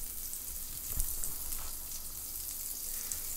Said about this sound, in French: On fait griller l'autre face aussi.